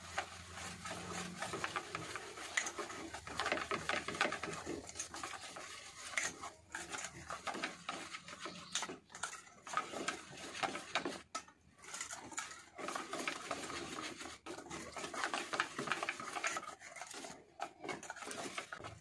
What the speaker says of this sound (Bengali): এবার এটা ব্যাটারটার সঙ্গে বেশ ভালোভাবে মিশিয়ে নেব